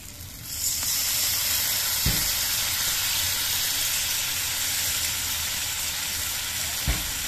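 Soaked gobindobhog rice hits a hot pan for muri ghonto and sets off a loud, steady hissing sizzle. Two soft knocks stand out as it keeps frying alone.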